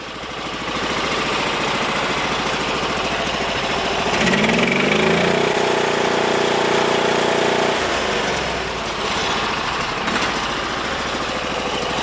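A 20 hp Briggs V-twin engine runs on a Sears Suburban loader with a steady, close, throbbing idle. The note shifts and deepens for a few seconds midway, then settles back to an even idle.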